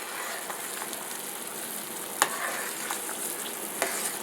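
Red peppers stirred into simmering beef dumpling soup, a soft steady bubbling hiss with a few light clinks of a spoon against the pot.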